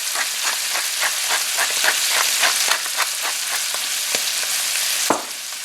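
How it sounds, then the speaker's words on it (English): Mushrooms sauté in a hot pan for a pheasant ragout, giving a loud, steady sizzle broken by rapid crackles and pops, with one sharp knock near the end, close and with no talking. "we're going to actually let this saute a little bit"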